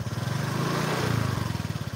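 A Honda Vario Techno scooter engine is revved up and held, a close, rapid pulsing putter that rises and settles over a couple of seconds.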